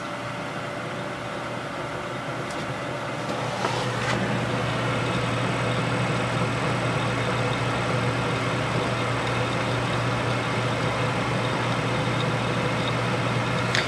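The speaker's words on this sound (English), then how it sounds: "Let me just run a quick seek test just to show you how loud those drives are" Computer hard drives clatter through a random seek test inside a PC, a steady mechanical churn over a constant low hum, with the busier seeking joining in after a few seconds and running on continuously.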